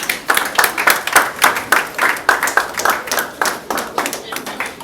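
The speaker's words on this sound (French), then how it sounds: "Acclamons l'officier." A crowd claps in steady rhythmic bursts for the officiating officer at a civil wedding in the Democratic Republic of Congo, loud and close, filling the whole stretch with lively applause.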